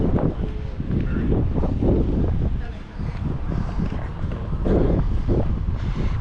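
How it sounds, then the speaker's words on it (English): Steady breezy wind buffets the microphone on the Charlottetown waterfront, a continuous low rumble with gusts rising and falling throughout, while someone talks over it. "A little bit breezy out here."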